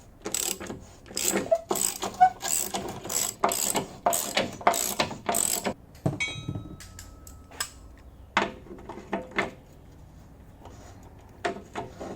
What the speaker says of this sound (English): the skid plate started falling down as I was loosening the bolts